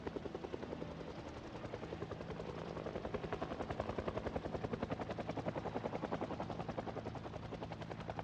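A video game's helicopter event: a steady, rapid rotor thump holds throughout, loud and continuous with a whirring drone beneath, and no talking.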